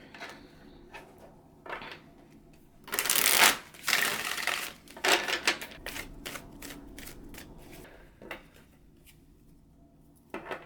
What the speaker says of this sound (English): I have shuffled the deck until I felt that it was shuffled enough